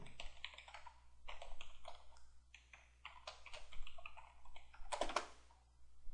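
Keys clatter on a computer keyboard in quick bursts of close, crisp typing, with short pauses between runs and one louder flurry near the end, as someone logs in to a web portal.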